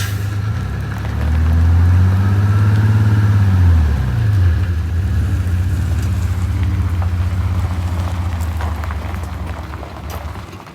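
An Eagle bus with a turbocharged Detroit Diesel 6V92TA engine that has a turbo boost problem revs hard, rising then falling away, then settles into a loud steady drone that fades slightly at the end.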